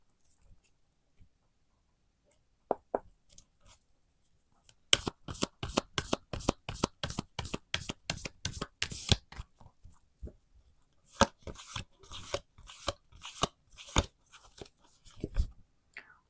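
Oracle cards being shuffled for a tarot reading, with a few light taps followed by a long, rapid run of crisp riffling clicks and then more bursts of shuffling. It is close and fairly quiet.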